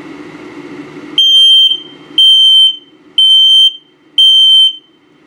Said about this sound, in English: LP is good, this is the test. Carbon monoxide coming up, good, and then a low battery alarm.